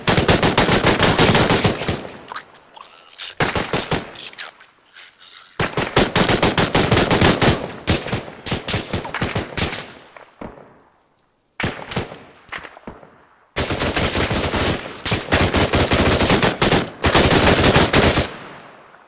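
Sustained suppressive machine gun fire in Arma 3, loud rapid bursts in several long strings separated by short pauses, with no talking.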